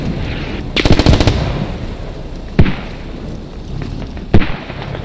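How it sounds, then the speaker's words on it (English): Gunfire in the video game Squad: a rapid burst of automatic fire, then two sharp single shots spaced a couple of seconds apart, close and loud. "I'm shooting the ridge line."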